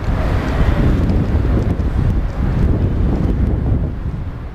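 Strong evening wind gusts buffet the microphone in a loud, continuous roar with no pauses and no voices, the rumble steady throughout.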